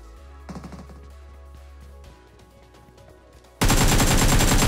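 Gunfire in a battle royale video game: a few scattered shots early, then a sudden loud, dense burst of rapid automatic fire at the end, with no talking.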